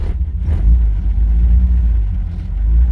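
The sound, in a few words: car engine running when given gas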